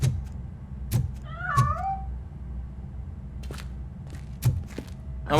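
A cat in the video game RoboCop: Rogue City gives one clear meow amid soft thumps and footstep-like knocks.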